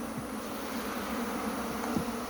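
Honeybees drone at a hive in Guyana, a steady low buzzing hum of many wings that holds evenly for a couple of seconds, with no voices over it.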